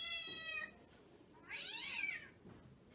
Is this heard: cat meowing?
yes